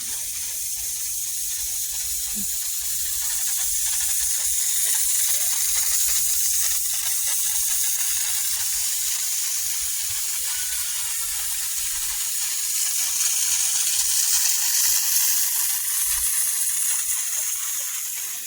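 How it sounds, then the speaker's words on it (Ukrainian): Steam hisses like drifting mist in an English garden at Burghley: a steady, broad hiss that swells slightly and fades, fairly loud and continuous throughout with no voices. "А ось який сюрприз. Це пара. Дуже цікаво. Ніби туман."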